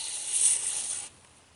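Foundation makeup sprayed from an aerosol can onto a makeup sponge for a cargo shimmer palette look: a close, steady airy hiss lasting about a second, then cutting off to a quiet background, with no talk.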